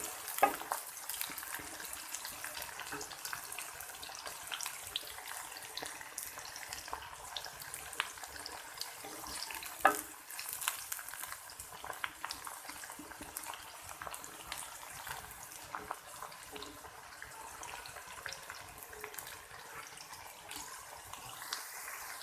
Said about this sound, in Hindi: अब मैं इसमें डाल दूंगी भिंडी। मैं इसे फ्राई कर लूंगी